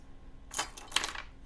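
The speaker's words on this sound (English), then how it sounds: "a dropping of gold, it sounds like." Gold coins drop in a lava castle video game level, heard as two quick bright clinking bursts close together, each a scatter of metallic jingles fading over about a second.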